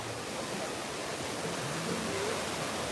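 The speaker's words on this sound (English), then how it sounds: "This is more of a draining fountain down a waterfall." Steady rushing water from a fountain draining down a waterfall at Kennywood amusement park pours continuously, a broad hissing roar, even in level with no pauses.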